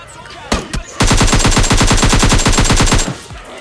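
Sustained automatic gunfire in a battle-royale shooter game, a rapid even burst lasting about two seconds after a couple of single shots, fairly loud and alone.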